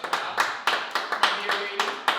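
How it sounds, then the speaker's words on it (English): A few people clap at an uneven pace, roughly eight distinct, fairly close claps over a couple of seconds, with talking underneath. "I have to applaud the stout."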